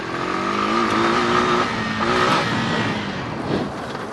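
A four-wheeler ATV on big, massive tires revs hard and upshifts, its engine note climbing, dropping at the shift, then climbing again, loud and close throughout.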